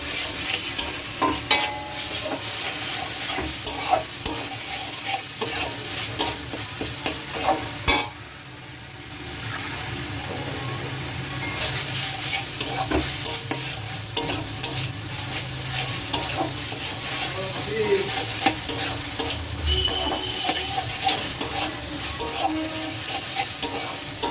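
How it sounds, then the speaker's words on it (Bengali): Masala spice paste sizzles and fries in oil in a pan while being stirred, a steady close hiss with scraping strokes that dips briefly quiet midway, no talking. "নুন দিয়ে নেড়ে চেড়ে দেখুন তেল ছেড়ে এসছে, ভাজা ভাজা হয়ে এসছে মশলাটা"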